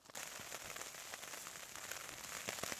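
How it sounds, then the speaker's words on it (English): Rain patters steadily on a camping tarp at a wild campsite, a soft, continuous dense crackle of drops heard alone and fairly faint. "hearing the wind and the rain on the tarp"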